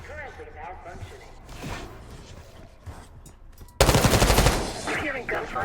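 Automatic weapon fire in the video game Call of Duty Black Ops 6, a sudden loud sustained burst of rapid shots after a quieter stretch of game ambience, close and dense.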